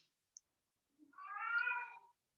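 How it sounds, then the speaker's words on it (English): A single drawn-out cat meow, faint and a little distant, preceded by a tiny click in otherwise quiet surroundings. "You might hear some cat noises in the background."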